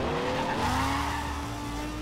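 An Audi R8 LMS Ultra race car in NFS World free roam, its engine note rising and shifting as tires squeal and skid through a turn, loud and close.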